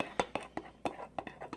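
Pizza batter being stirred in a bowl with a spoon: a rapid series of about nine light clinks and scrapes of the spoon against the bowl, close and fairly quiet.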